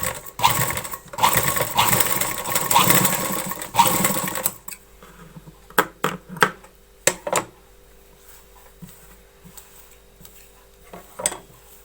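A sewing machine runs stitches over lace on the back neck of a blouse in one loud, continuous burst of a few seconds. Scattered sharp ticks and clicks from handling the fabric and machine follow in the quiet afterward.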